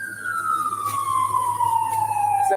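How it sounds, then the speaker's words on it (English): Emergency vehicle siren blaring close by as an ambulance is called to a car, its wailing tone sliding steadily downward over a couple of seconds, loud and alone with no talk. "that sound that you hear, they're calling the ambulance for the girl that's in the car"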